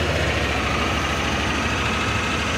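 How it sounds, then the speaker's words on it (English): A 2018 Honda Pioneer 1000 utility side-by-side idles steadily up close, a continuous even engine rumble with no talking. "I'll let you hear it run."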